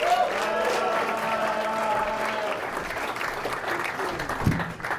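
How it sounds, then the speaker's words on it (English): An audience at a stand-up comedy show claps and cheers to welcome a comedian, a full round of applause with voices mixed in that gradually thins out toward the end. "start clapping right now for Raymond Joseph!"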